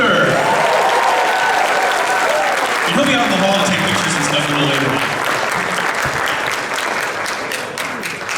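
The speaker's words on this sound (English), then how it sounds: "big round of applause for the new Pounce the Panther" Crowd applause for the new Pounce the Panther mascot at the MPlex22 opening ceremonies, a broad steady clapping from a large audience that runs throughout while someone speaks over it through a PA.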